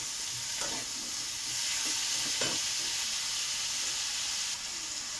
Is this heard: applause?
no